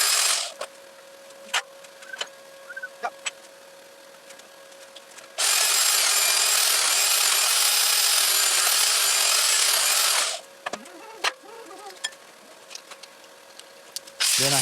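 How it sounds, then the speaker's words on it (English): Bandsaw chopping the head off a big bolt: a steady, loud, high-pitched metal-cutting whine for about five seconds, framed by quieter shop clatter and taps before and after. "that big bolt will get its head chopped off by my bandsaw"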